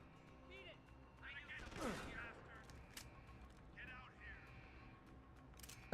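Gunfire from a machine pistol in the video game Deus Ex Human Revolution, a quick faint burst in the middle amid game sound effects, quiet overall.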